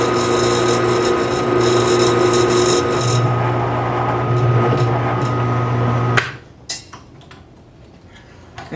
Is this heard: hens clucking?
no